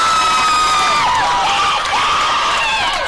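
A crowd at a varsity regional softball game cheers and shouts loudly and steadily after a home run, with excited high-pitched voices rising and falling throughout.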